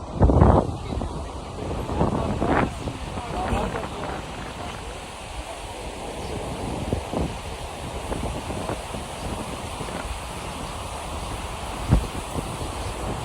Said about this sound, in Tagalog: Buti lang mahangin dito.